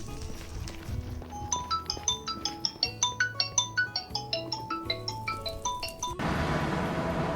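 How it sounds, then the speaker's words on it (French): A melodic phone ringtone chimes in a quick run of bright, evenly spaced notes for about six seconds during Minecraft survival play, then cuts off into a steady hiss. "vous l'avez peut-être entendu, la sonnette sur le coup"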